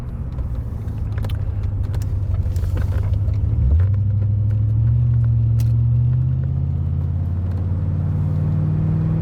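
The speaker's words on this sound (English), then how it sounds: "Seems to downshift nicely, coming to a stop." A C4 Corvette with a rebuilt transmission rumbles as it downshifts and slows to a stop, a deep, steady engine drone that shifts pitch partway through, heard from inside the car.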